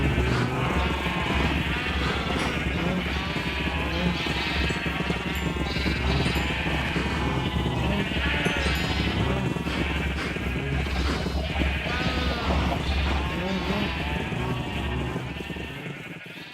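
Sheep bleat repeatedly in a blocky building video game, their calls layered over a steady background of game music and ambient sound, loud and continuous throughout.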